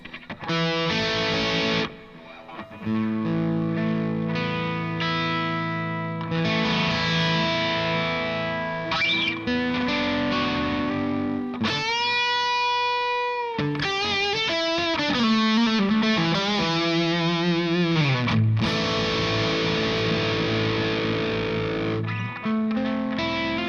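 An electric guitar plays through a Marshall Plexi amp-simulator pedal with heavy distortion: sustained chords, bends and fast runs, loud and continuous with no voices.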